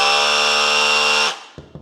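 A Flex SDS rotary hammer drills in rotary hammer mode with a loud, steady, high-pitched motor whine. The whine cuts off abruptly after about a second, followed by a couple of faint knocks.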